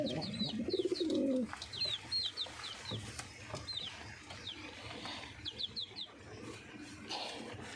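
Lakka pigeons in a loft coo low and rolling at the start, then high chirps from other birds repeat throughout and short clucks come and go, all faint and mid-distance, with no voices.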